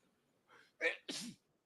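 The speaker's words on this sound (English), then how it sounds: "Yes, it makes me sneeze." A single close sneeze: a short indrawn breath followed by a sharp, explosive burst, with no talk.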